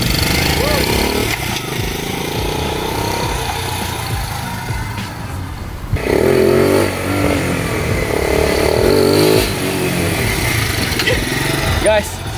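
A small Gorilla motorbike engine runs steadily and loudly while being ridden, with a continuous buzzing drone that swells as the throttle opens about halfway through, heard close and without break.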